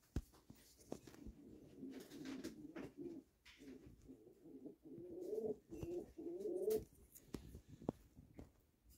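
An orphaned, hand-reared young turtle dove coos in soft, low, repeated phrases indoors, fairly quiet and close, with a few brief rustles between calls.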